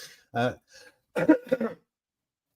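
A few rough coughs and throat-clearing bursts come close to the microphone, separated by short pauses of silence.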